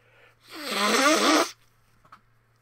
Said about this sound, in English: gotta blow my nose